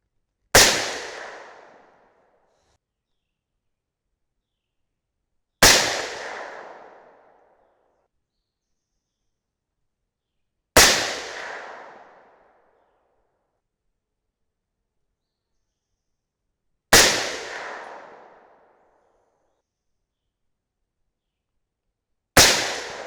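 Five suppressed .308 Winchester rifle shots with 168gr match ammunition, each a sharp loud crack that decays over about a second, evenly spaced roughly five seconds apart with silence between.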